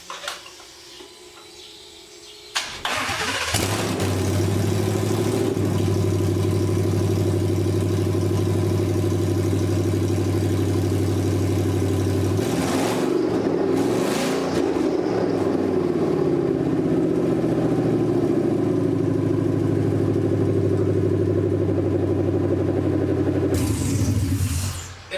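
A 2020 engine fitted in a 1978/79 Ford Bronco fires up for the first time on a makeshift fuel supply, catching after a brief crank and then running loud and steady at a close, constant idle.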